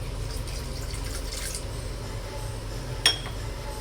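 Water poured into a pan of jaggery and ghee on a stove for ragi kozhukattai dough: a steady low rushing pour with a single bright clink of metal near the end.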